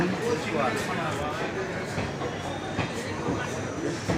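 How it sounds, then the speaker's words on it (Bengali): The Teesta Torsa Express pulls in at a station platform with a continuous low rumble and rolling rail noise, while voices talk nearby over it. "আমাদের ট্রেন তিস্তা তোস্তা চলে এসেছে এখন আমরা এই ট্রেনে উঠে পড়বো"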